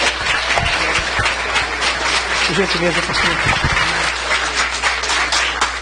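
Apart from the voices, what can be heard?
congregation applauding the reverend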